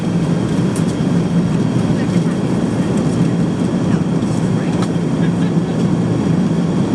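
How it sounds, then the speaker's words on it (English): Inside a passenger airplane during takeoff, a loud, steady engine roar fills the cabin without a break, with possible faint voices underneath. "We're about to take off."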